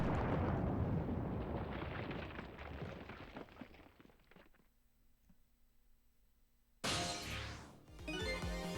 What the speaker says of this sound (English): They have a bomb! There's a bomb!